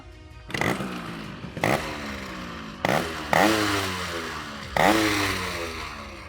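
A Yamaha RX 100 motorcycle's two-stroke engine revs hard in four or five sharp bursts, each rising quickly then winding down with a raspy, buzzing tone, close and loud with no talking.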